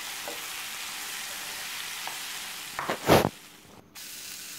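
Boiled potatoes frying in masala for a masala dosa filling give a steady soft sizzle, then a few scraping stirs and a louder burst of crackling before a brief lull.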